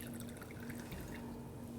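Water seeps through a hole in the bottom of a beaker, giving soft, faint dripping and trickling over a steady low hum throughout.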